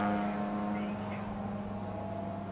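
Porsche 914-6 race car running on a track, a steady engine drone with a hint of passing, heard at moderate distance.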